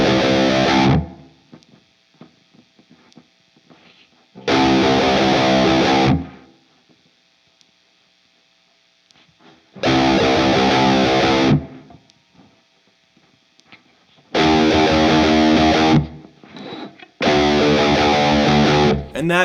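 A distorted electric guitar plays the pre-chorus of a song in loud, chugging bursts of a second or two, separated by near-silent gaps where faint string noise and muted scratches linger.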